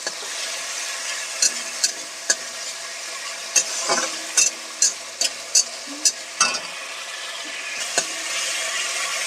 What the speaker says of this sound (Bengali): গ্রেড করা টমেটোটাকে অ্যাড করে দিচ্ছি এটা একটু নেড়ে চেড়ে ভেজে নিতে হবে